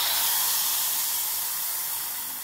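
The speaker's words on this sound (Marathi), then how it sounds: "कढईमध्ये फोडणी घेतलेली आहे ती टाकणार आहे यात" Hot tempering of mustard seeds, fenugreek and asafoetida poured from a small pan into taro leaf curry, giving a loud, close sizzling hiss that slowly fades, with no talking.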